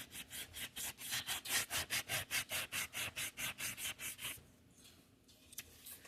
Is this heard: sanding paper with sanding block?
yes